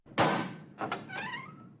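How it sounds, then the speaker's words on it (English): A cell door opens in a dramatized story set in a prison, with a sharp thunk at the start, then a creaking, squealing drawn-out tone as the door swings open, close and fairly loud. "The door opened,"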